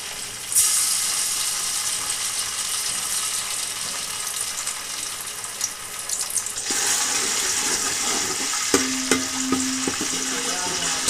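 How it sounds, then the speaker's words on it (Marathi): Garlic ginger paste frying in hot oil for a chicken curry, a dense continuous sizzle that swells louder partway through, with clinks of stirring and a brief running-water sound near the end. "तेल गरम झाले, आपण लसूण अद्रक पेस्ट टाकून घेणार आहेत"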